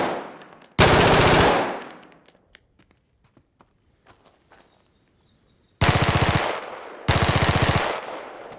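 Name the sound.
weapon gunfire with area reverb in a video game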